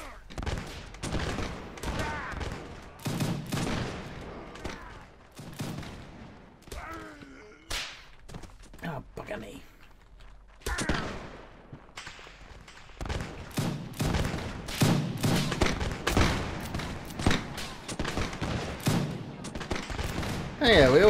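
Musket volleys and scattered gunshots crack repeatedly in a Napoleonic-era Mount & Blade battle, bursts of dense fire with brief lulls, loud and close, with a voice shouting over parts of it.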